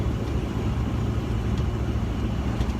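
An original 1974 Ford Bronco driving along a coastal road in Southern California, its engine giving a steady, loud, low rumble with road and wind noise, close and with no talking.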